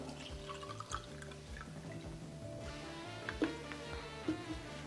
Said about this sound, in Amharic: ይሄንን ውሃ ተሞሉትና